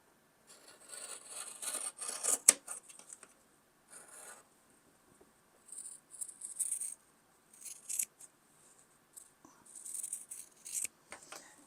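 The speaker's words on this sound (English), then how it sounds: "I'm going to take a pair of scissors and I'm going to cut on that line." Quiet snipping and rasping of scissors cutting quilting fabric along a marked line in short, repeated bursts, close by with no talking.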